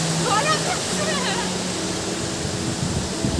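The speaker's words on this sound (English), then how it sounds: "I think this is the second biggest waterfall in West Garo Hills" Daribok waterfall in West Garo Hills, a loud, steady roar of falling water filling the whole scene, with faint voices briefly audible beneath it.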